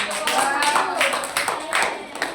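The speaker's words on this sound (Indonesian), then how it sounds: "Tepuk tangan untuk Nadia." Classroom clapping for a student named Nadia during a microteaching lesson, a loose run of hand claps from a small group, moderately loud, with voices talking over it.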